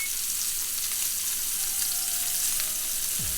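A thick beef tenderloin steak searing in a hot pan, giving off a steady, even sizzle that stays close and fairly soft from start to finish.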